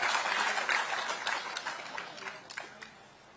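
Audience applause at a governor's public address in Dehradun, a crowd clapping loudly at first and then thinning into scattered claps that fade out.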